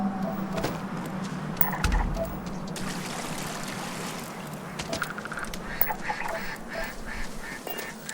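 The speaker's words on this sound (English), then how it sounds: "I hear ducks!" Ducks quacking in the Starfield video game, a steady low chatter of several birds alongside trickling water, heard continuously with a few sharper calls standing out.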